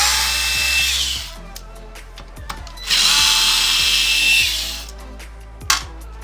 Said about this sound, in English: We're gonna have to unscrew those 2.